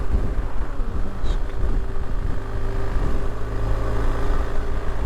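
BMW R1250GS Adventure motorcycle engine running with a steady low rumble and even drone, close and constant, with some wind buffeting on the microphone.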